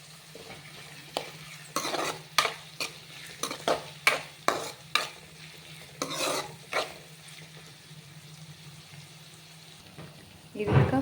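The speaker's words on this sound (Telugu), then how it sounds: "లో ఫ్లేమ్లోనే గోల్డెన్ కలర్ వచ్చేంత వరకు ఫ్రై చేసుకోవాలి" Onions fry gently over a low flame in a pan, a steady soft sizzle broken by a series of scraping stirs and clinks, close and clear with no talking.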